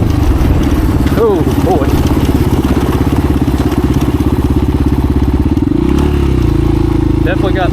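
Vintage 1985 Honda XR350R motorcycle running hard at speed, a loud, steady engine drone with a throttle change near the end, while a rider briefly exclaims over it.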